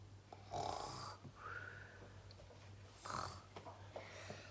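A voice imitates snoring with a few slow, rasping snorts and breathy exhales, quiet and close.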